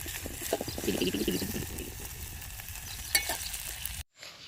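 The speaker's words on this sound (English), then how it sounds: "Right now things are getting cooked, as you can see here." Vegetables and corn cook in a vessel outdoors in a field, making a steady sizzle mixed with soft clinks and rustling that cuts off abruptly near the end.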